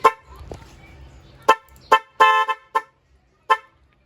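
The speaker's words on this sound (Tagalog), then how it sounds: "Yan yung busina natin." A motorcycle dual horn honks in short car-style bursts, several separate beeps with pauses between them, loud and close, with a low hum at the start.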